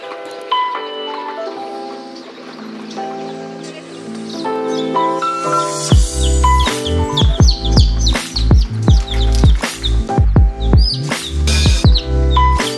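Newly hatched chicken chicks chirping in an incubator, many high, sharp peeps that start sparse and then crowd together into rapid overlapping calls alongside occasional soft bumps, close and fairly loud.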